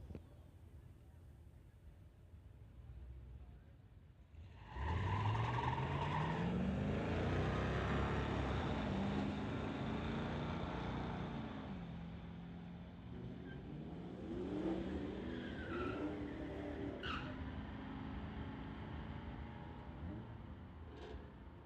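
Street legal cars at a drag strip launch with a sudden loud engine roar that climbs through the gears, then holds a long sustained drone as the run carries on, heard from a distance with a murmur of voices beneath.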